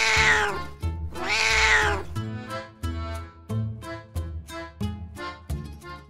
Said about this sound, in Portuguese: Três gatos pretos.